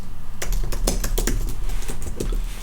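Fingers tap briskly on a computer keyboard nearby, a quick, uneven run of crisp keystroke clicks with no voices.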